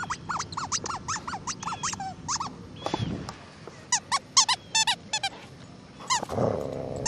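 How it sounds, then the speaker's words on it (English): Rubber squeaky flip-flop dog toy being chewed and squeezed, producing rapid runs of high squeaks in clusters, close up, with a brief low growl from the dog between bursts. "Who's got the squeak flop?"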